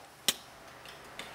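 A single sharp tongue click near the start, crisp and close, followed by a fainter second click about a second later, with quiet in between.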